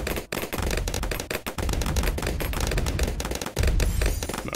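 Rapid continuous booming volleys from bomb towers firing in the video game Bloons TD6, loud dense thumps in a fast irregular stream running throughout, with no speech.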